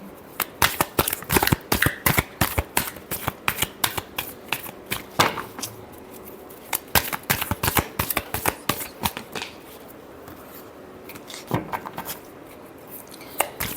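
Tarot cards being shuffled for a reading, a close series of rapid crisp riffling bursts in uneven clusters with short pauses between them, no talking.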